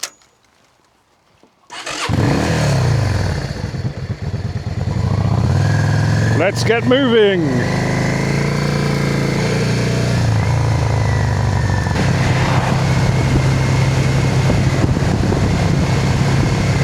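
A motorcycle engine cranks and catches after a brief silence, then settles into a close, steady idle and pulls away with rising revs, someone speaking briefly over the running engine.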